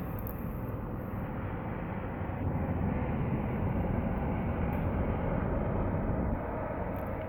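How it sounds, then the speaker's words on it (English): Helicopters flying by outdoors, a steady low engine and rotor rumble that swells slightly in the middle and holds at a constant distance without any talking. "I just want to wait for these helicopters to stop going by"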